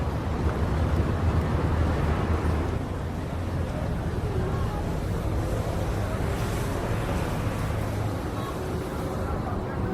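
Steady broadband rush of water and wind from a ferry crossing open water, with a continuous low engine rumble underneath.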